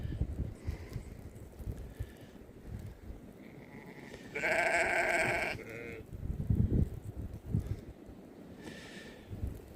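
Sheep bleat in a snowy pasture during a spring blizzard, giving one loud, clear nearby bleat and a fainter call later. Between them runs a low background of shuffling and wind, with no talking.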